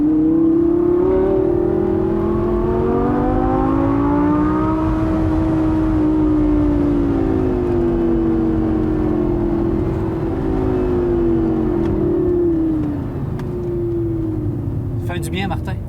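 A car engine revs hard and accelerates, a loud continuous sustained roar whose pitch climbs, dips and climbs again over about sixteen seconds, with faint talk underneath.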